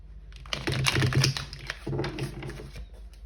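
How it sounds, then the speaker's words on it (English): Tarot cards being shuffled by hand, a close, dry papery riffling and slapping in two bursts with a short pause between, no talking. "I just took a peek at the cards that I began to shuffle."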